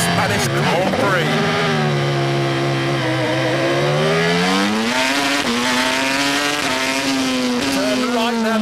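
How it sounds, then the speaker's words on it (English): Jaguar Grand Prix racing car of about 800 horsepower lapping the Catalonian circuit, its high engine note rising and falling steadily through corners, loud and continuous from close by. "I'm out on the track on my own in this incredible Jaguar Grand Prix car around the Catalonian circuit"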